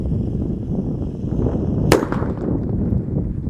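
A Black Buster firecracker buried in the ground goes off with a single sharp, loud bang that rings out briefly over a low rumbling outdoor background.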